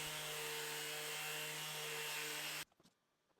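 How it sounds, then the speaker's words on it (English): Wood pieces for a nightstand being power-sanded, a steady loud grinding whir that holds for over two seconds and then cuts off abruptly, followed by a few faint knocks. "it was time to do some sanding"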